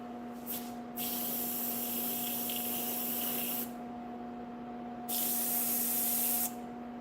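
An airbrush sprays paint onto figures in short hissing bursts, two longer sprays with brief pauses between, over a steady faint tonal hum, close and fairly quiet with no talking.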